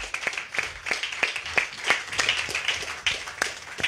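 A church congregation claps in a steady, fairly even rhythm, close to moderately distant, with some faint voices mixed in.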